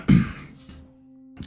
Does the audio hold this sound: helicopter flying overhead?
no